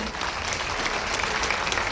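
A civil defence gathering applauds to welcome the minister, a brief, dense roar of many clapping hands, loud and continuous from start to finish.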